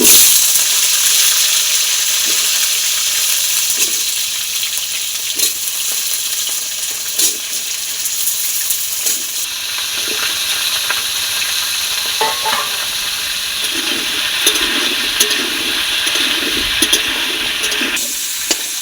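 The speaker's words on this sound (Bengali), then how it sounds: "এবার আমি আলুটা ভেজে নেব" Potatoes frying in hot oil for a pumpkin curry, a steady broadband sizzle running throughout with occasional stirring clatters, close and fairly loud, no talk.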